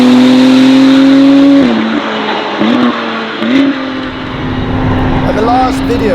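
A McLaren Artura fitted with a Novitec exhaust drives past loudly, its engine droning at a steady pitch with a few blips and gear changes, accompanied by a voice talking throughout.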